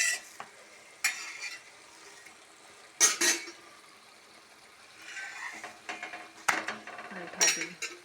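Roti cooking on a pan with a soft sizzle, broken by a few sharp scraping and clattering hits as it is flipped, near and moderately loud, with no talk.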